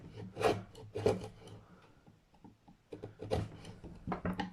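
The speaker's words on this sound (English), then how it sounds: "use some sandpaper on the bottom of this and get it finalised and flattened" The bottom of a guitar nut for a Jackson guitar is rubbed on sandpaper to flatten it, making short rasping strokes in bursts with pauses between, close and fairly quiet.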